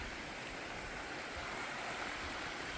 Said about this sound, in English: There's another waterfall down here.